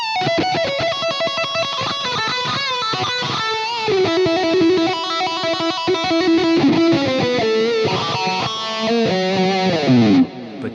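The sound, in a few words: guitar wah effect driven by randomized LFO, Fractal FM3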